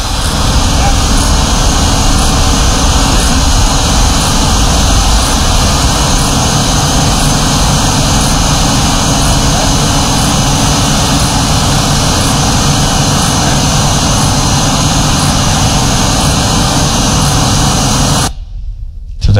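Flying drones drone loudly and steadily during a robotic building experiment, a dense continuous whir of rotors with a high whine holding for about eighteen seconds before cutting off abruptly.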